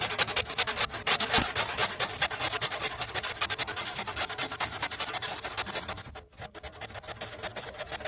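Steady back-and-forth rasping of a handsaw through a wooden hammer handle, fast and rhythmic strokes close up, with a short pause near the end before sawing resumes.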